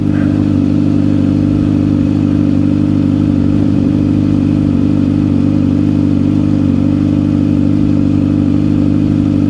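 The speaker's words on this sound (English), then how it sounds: "Is that a M109, Suzuki M109 headed to the dealership?" A Suzuki M109 motorcycle rumbles nearby with a loud, steady engine drone that holds constant throughout, with no clear swell or fade of a pass.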